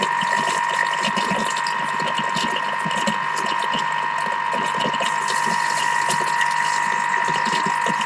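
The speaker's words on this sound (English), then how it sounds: "Waiting for that grinding to stop." A Thermomix grinds and whirs steadily while cooking meringue, a continuous mechanical drone with a sustained tonal hum running without pause at close range.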